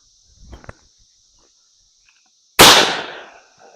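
A shotgun loaded with a Magtech brass shotshell and smokeless powder fires a single sharp, loud blast that rings and decays over about a second. It follows a few faint handling clicks over a steady high outdoor hum.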